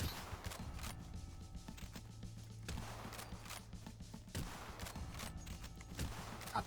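Rapid gunfire in the retro shooter Cultic, a steady run of quick, fairly faint shots repeating over a low game soundscape, without speech.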